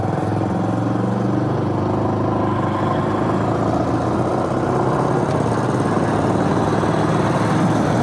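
A late-1960s truck with a worn engine burning oil runs at a steady, rough idle, a loud continuous rumbling drone close by with no voices.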